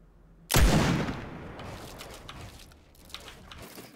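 A single loud gunshot in Fortnite cracks sharply, then decays into a long fading rumble and faint scattered noise.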